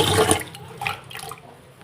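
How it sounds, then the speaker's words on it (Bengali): Soaked chickpeas and pea lentils being washed in water, with a loud rush of pouring water at the start, then softer swishing and splashing as the lentils are rinsed by hand. "এখন ডালটাকে আগে ধুয়ে নিচ্ছি ভালোভাবে দেখো"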